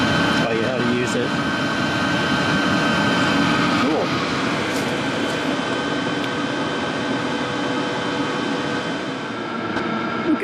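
A BougeRV portable 12V diesel heater runs with a steady, moderate fan whoosh and a low combustion hum. The noise stays even throughout, and faint voice-like sounds are mixed in.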